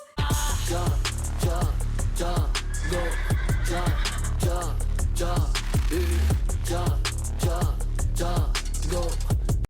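Repeated horse whinnies ride over a thumping drum and bass beat, the neighs sampled rhythmically and loud throughout.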